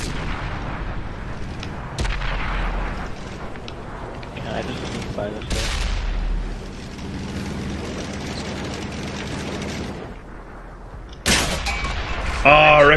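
Tank cannon blasts from a tank video game boom out in several sharp, loud shots with rumbling tails and mechanical clatter, one shot ricocheting, mixed with game engine noise.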